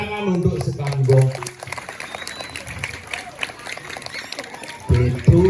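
A few seconds of audience clapping at a Balinese comedy show, with people talking loudly just before it starts and again as it ends.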